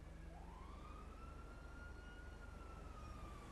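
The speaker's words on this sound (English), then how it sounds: "Whose siren's going off?" A single siren wails from a distance in GTA 5 Online, its tone rising then holding, over a low steady rumble; faint and with no talking.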